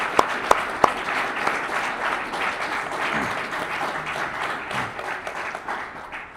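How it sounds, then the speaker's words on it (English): An audience at a cadet wing change of command ceremony breaks into sustained applause, opening with a few sharp separate claps before settling into a full, steady crowd clap. "Let's give them a round of applause."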